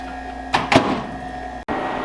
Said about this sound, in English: Pop this into your microwave.